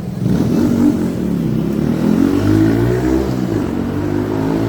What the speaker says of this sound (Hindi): छोटी सी बाइक है, साउंड देखो भाई का, बाइक का साइलेंसर लगा रखा है उसने